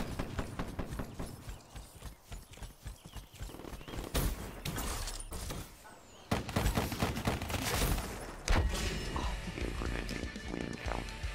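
Burst-fire gunshots from an M87 in the video game Call of Duty Black Ops 3, sharp clustered cracks in quick groups amid other game noise and muffled voices.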